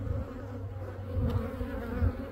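Honeybees from a dwindling, queenless hive swarm close by, giving a steady, dense buzz that swells slightly partway through and continues without pause and with no voices.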